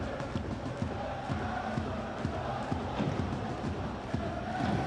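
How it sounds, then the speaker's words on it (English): Football crowd at a J1 League match between Avispa Fukuoka and Vissel Kobe in Japan, a steady wash of stadium noise with rhythmic chanting and drum-like beats, distant and sustained. "Not too many football grounds around the world where you see fans in kimonos cheering their team on."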